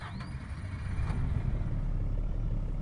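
An Isuzu Erga Mio bus engine in the OMSI 2 video game cranks and catches, a low rumble settling into a steady idle after a brief rising whine at the start.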